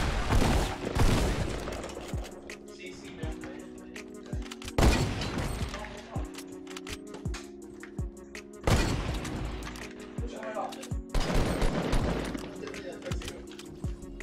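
Fortnite gunfire, with bursts of rapid shots and booming blasts that come in several loud clusters, separated by quieter stretches of game sound.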